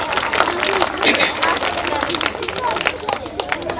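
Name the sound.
audience applause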